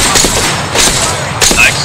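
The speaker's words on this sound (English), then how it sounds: "Nice shots, dude." Gunshots in the Apex Legends shooter game pop in a couple of quick loud bursts over a steady background of game noise.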